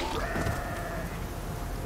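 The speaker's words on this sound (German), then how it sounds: "Entschuldige, Ziege, aber ich brauch dich." A goat in Horizon Forbidden West gives a single drawn-out bleat, loud and close, over a steady game background.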